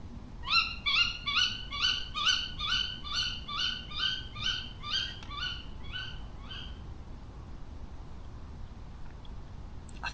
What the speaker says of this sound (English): it's a tawny owl, a female